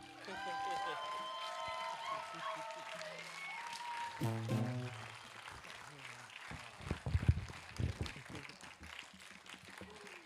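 Audience applause and scattered cheers at the close of an outdoor live concert in Galva, rising as the last sung notes fade and continuing under a spoken voice.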